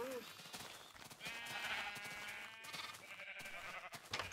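Sheep bleating in the Minecraft video game, a couple of wavering, nasal cries rising through the middle of a short, fairly faint clip with other game sounds around them.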